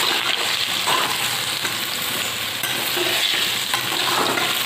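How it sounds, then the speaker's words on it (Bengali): Potatoes sizzle steadily in hot oil while a utensil stirs and scrapes through them, a continuous crackling hiss with no voices. "আলুটাও ভাজা ভালো হয়ে গিয়েছে, খুব সুন্দর ভাজা হয়ে গিয়েছে।"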